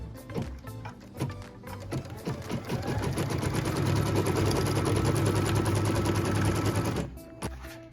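Sewing machine stitching a tack-down line through quilt fabric for a maple leaf block: a short stop-start burst, then a steady, fast, close run of stitching lasting several seconds before it stops.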